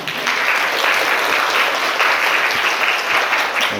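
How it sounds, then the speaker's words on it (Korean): Steady, loud audience applause fills a Korean book talk hall as the moderator is welcomed on stage, a dense continuous patter of many hands lasting throughout with no pauses. "먼저 저희 사회자님도 지원됐을 때 박수 한번 부탁드리겠습니다."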